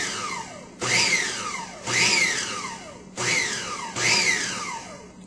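A food processor pulses butter into crust dough in four short, even bursts, each a loud whirring rise that tails off, with brief pauses between them.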